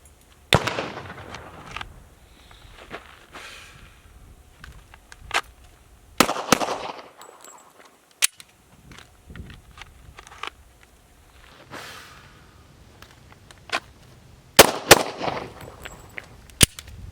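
A handgun drawn from appendix carry fires rounds from a magazine in sharp, loud individual shots, scattered across the stretch with a tight cluster near the end, amid faint handling and movement noise.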